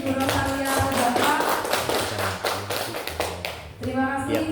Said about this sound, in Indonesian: Tepuk tangan untuk Ibu Rosalia Muzalfa.